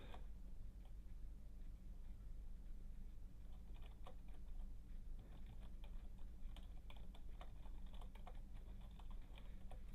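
Someone types code on a computer keyboard, soft clustered keystrokes ticking quietly over a steady low background hum.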